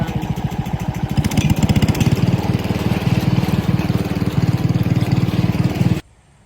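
A Wheel Horse garden tractor engine runs steadily and loudly up close with a rapid, even putt-putt firing rhythm for about six seconds, then cuts off abruptly into silence.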